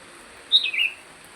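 A single clear call from a tilang bird, a short bright whistled chirp that slides downward, heard up close against near silence.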